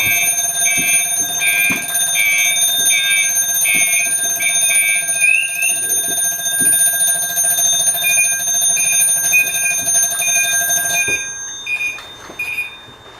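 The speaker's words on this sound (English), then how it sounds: "Low pressure alarm." A self-contained breathing air pack's low-pressure alarm rings loud and close, a steady shrill electronic tone with rapid pulsing chirps and faint clicks and handling noise, then cuts off abruptly near the end.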